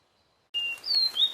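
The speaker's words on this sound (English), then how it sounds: "Happy birds sing sweet songs." Birds sing in a forest: a few clear, high chirps and short whistled notes come after a silent start, close and moderately loud, with no talking.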